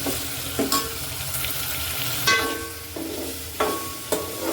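Tomato, green chili, peanuts and curry leaves cook in hot oil for dal dhokli, giving a steady close sizzle broken by several sharp stirring clinks and scrapes, with no voices.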